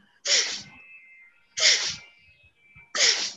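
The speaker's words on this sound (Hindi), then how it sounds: "अब जैसे हम लोग आर्टिफिशियल छींक खाते हैं वैसे आपको छींक खानी है" Three forced, artificial sneezes made during a kapalbhati breathing exercise, each a sharp loud burst followed by a brief airy tail, evenly spaced about 1.3 seconds apart.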